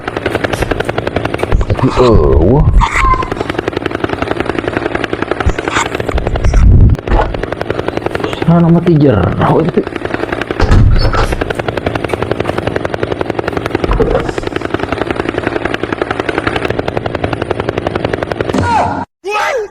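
A loud, steady helicopter drone thrums throughout, with brief breaks near the end, while people chat over it.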